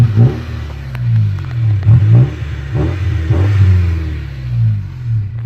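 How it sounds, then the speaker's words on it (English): A 1998 Honda Civic engine runs with a close, low droning rumble, its pitch swelling and dipping a few times in steady, repeated waves. "The engine's meant to sound like this."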